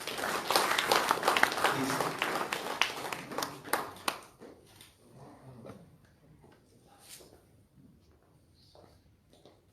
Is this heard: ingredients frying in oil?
no